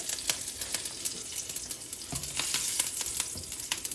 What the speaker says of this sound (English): Then some curry leaves. Bear with me, it's going to splatter.